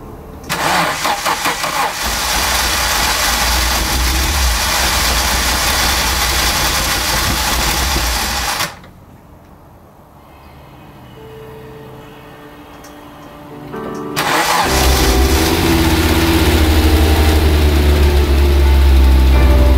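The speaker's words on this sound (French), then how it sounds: "Le moteur démarre toujours, il tourne correctement." An Audi 200 Quattro Turbo engine turns over and catches, then idles with a steady low rumble; it cuts out briefly in the middle before restarting and idling again.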